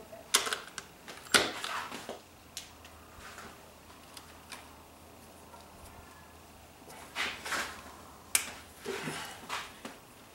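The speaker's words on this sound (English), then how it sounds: "Now with an 8 I'm going to remove all the screws for the lid." An 8mm ratchet backs out the valve cover screws on a 2002 PT Cruiser. Quiet, sparse metallic clicks and snaps come in scattered bursts, with faint pauses between them.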